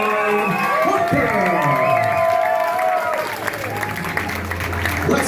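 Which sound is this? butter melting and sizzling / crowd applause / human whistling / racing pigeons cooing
crowd applause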